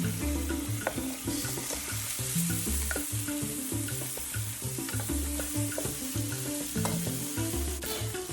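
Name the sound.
browning pork chops in a pan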